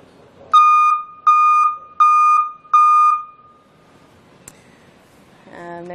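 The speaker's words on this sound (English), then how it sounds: "our look at the Peterson Backup Alarm for trucks and vans" A Peterson backup alarm for trucks and vans sounds four loud, evenly spaced electronic beeps up close, then falls quiet apart from a faint click and a brief voice at the end.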